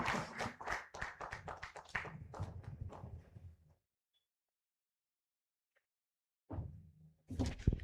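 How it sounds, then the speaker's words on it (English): Scattered hand claps from a symposium audience for a speaker at a crop-sector event in Uganda, a rapid run of distinct claps lasting a few seconds before falling silent, with brief sounds returning near the end. "Another round of applause"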